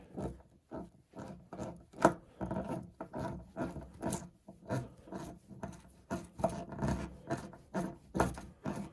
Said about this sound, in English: I'm going to screw it in to the wood